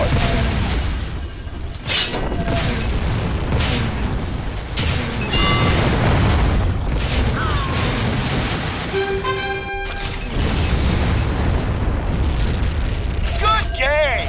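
Booms and crashing blasts from enemy remote equipment being destroyed in a Tribes 2 capture-the-flag match on the TWL-Drifts map, loud and continuous amid game effects, with a tonal alert chime partway through and voice callouts.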